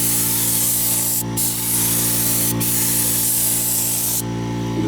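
Spray gun laying down a first coat of paint on a Camaro front end in a garage, a loud steady hiss running throughout with two brief gaps as the trigger is released, then a drop near the end.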